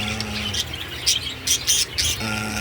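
Pet birds squawk in a few short, loud bursts close by, with a steady low hum underneath between the calls.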